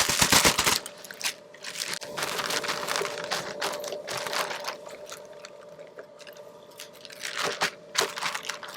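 A flexible bag of cell culture media filled with sterile water and kneaded by hand to mix it, giving repeated crinkling, crunchy squeezes in irregular bursts, loud and close, with no talking.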